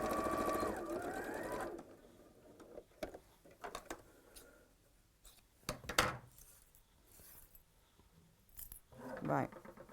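A sewing machine stitches a seam to its end on linen-look panels, a brief loud whirring burst at the start followed by quieter clicks, handling noises and faint talk.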